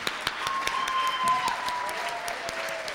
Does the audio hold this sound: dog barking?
no